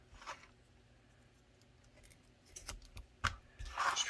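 Tool cutting around a TLR9 weapon light while a holster is being made for a Glock 34, heard as a few sharp close snips and scrapes with short rustling bursts between quiet pauses.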